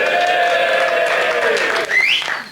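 A studio audience gives a round of applause and cheers on a British comedy football show, a steady wash of clapping with a rising whistle near the end.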